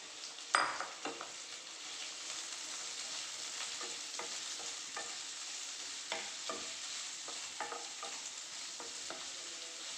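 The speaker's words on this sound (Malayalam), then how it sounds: "വെളിച്ചെണ്ണ വെച്ച് കൊടുത്തു അതിലേക്ക് നമുക്ക് ഉള്ളി ഇട്ട് കൊടുക്കാം" Onions frying in coconut oil for a simple egg curry give a steady close sizzle throughout, broken by scattered clicks and scrapes of stirring, with one sharper knock near the start; no one speaks.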